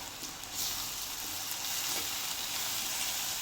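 French beans and carrot curry stirred in a pan gives a quiet, steady sizzle and frying crackle throughout, faint and close with no talking.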